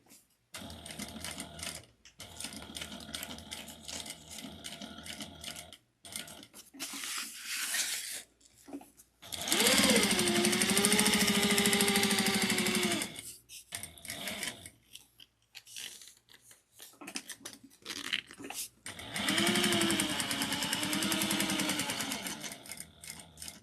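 Sewing machine running two long bursts of reinforcement stitching on a tote bag, a steady whirring drone with a rising then settling pitch, separated by quieter handling rustles and small knocks.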